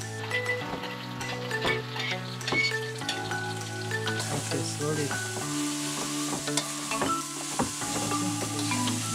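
Jungle meal heating in a pan on a trek near Chiang Rai, Thailand, with a steady close sizzle, clinks and a stirring scrape running throughout.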